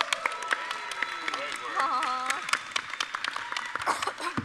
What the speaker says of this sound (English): Can we get a big round of applause for our Foley volunteers?